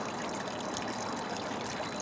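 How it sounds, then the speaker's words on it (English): Water runs continuously over a 1/50th scale dam model, a steady, close, broadband trickling and splashing wash with no pauses or voices. "So that water's been running over there since 1941"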